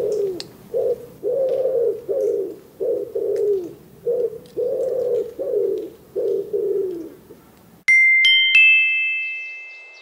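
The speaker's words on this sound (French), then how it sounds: "C'est le pigeon ramier." A common wood pigeon coos in a steady series of soft, low, hollow phrases, close and clear, ending abruptly as a brief electronic chime rings out.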